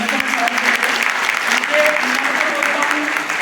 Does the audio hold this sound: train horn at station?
no